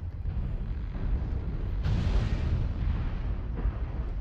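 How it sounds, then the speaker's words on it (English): Missile explosions in the mech combat game Mechwarrior Online: a constant low rumbling roar with a few muffled blasts, one sharper impact near the middle, all fairly loud and heavy. "These missiles are gonna kill me"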